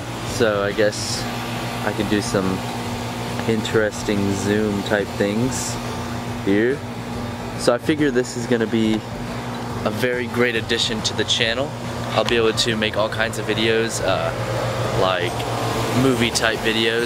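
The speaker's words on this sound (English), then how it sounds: "It's the air conditioner." Steady air conditioner hum running outdoors in a backyard, a constant low drone under someone talking throughout.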